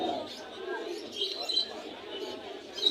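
Pigeons coo low and intermittently at a busy pigeon market in Jinjira, Bangladesh, with people talking over the calls and general crowd chatter.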